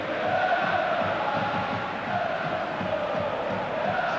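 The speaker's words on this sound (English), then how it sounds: "The vast majority of this huge crowd behind them." A huge football stadium crowd of AC Milan fans at a Milan v Inter derby roars in a continuous distant wash of chanting and cheering, sustained throughout.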